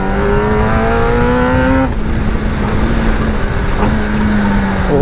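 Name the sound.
Kawasaki ZX-10R motorcycle engine revving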